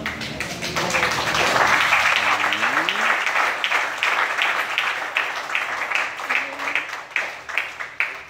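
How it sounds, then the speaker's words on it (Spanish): A church congregation applauds, a dense wash of clapping that builds quickly, holds for several seconds, then thins into scattered claps as it fades. "¿Pueden darle un aplauso al Señor?"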